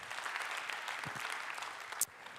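Steady applause from an audience at a trophy award ceremony fills the clip at moderate volume, with a brief sharp knock near the end.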